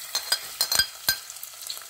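Onions frying in oil with dry and green chilies nearby, a soft steady sizzle broken by several sharp scraping stirs and clatters of a spoon against the pan, close and fairly quiet.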